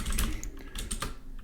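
Rapid keystrokes tap on a computer keyboard, several quick clicks and a firmer press, close-up and alone without any speech.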